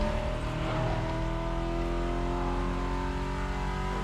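A Chevy Chevelle with an engine swap runs steadily with a constant, loud, close drone of engine and gear whine, its tonal harmonics holding nearly level with slight pitch shifts and no talk.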